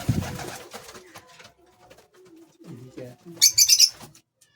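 Baby pigeons in a loft give a few short, high chirping calls near the end, after low muffled rustling and soft coos in a quiet room.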